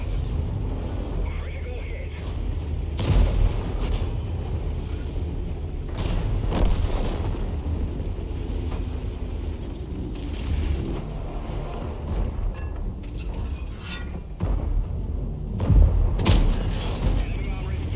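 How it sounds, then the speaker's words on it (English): Tank cannon fire and HESH shell impacts in the World of Tanks video game, with a Tortoise tank engaging a T-10, repeated booms and blasts over a constant engine rumble, partly under a commentator's talk. "Now he just penned a shot with his HESH round."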